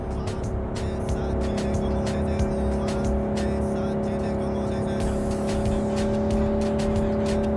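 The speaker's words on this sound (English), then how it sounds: "Drive, Jackie, just drive" A car races fast in Cyberpunk 2077, its engine a steady, loud drone with tire noise and rapid clicking effects throughout, close and continuous with no pause.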